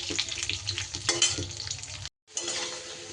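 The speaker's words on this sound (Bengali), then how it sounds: "আলুটা একটু ভালো করে লাল লাল করে ভেজে নেব।" Diced potato fries in a pan, a dense, steady crackling sizzle close by with occasional stirring, briefly cutting out before resuming.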